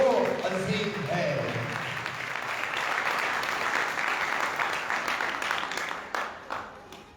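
Congregation at a Christmas Eve night Mass claps loudly, a dense burst of applause that starts strong and gradually thins out toward the end, with a few words from a voice at the start.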